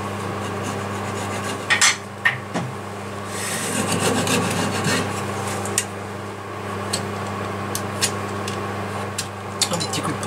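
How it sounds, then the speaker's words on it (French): Cherry and beech wood bird bath being sanded on a lathe, a steady close rubbing rasp with a few sharp knocks and scrapes over the hum of the spinning machine. "Un petit coup de ponçage et puis c'est bon."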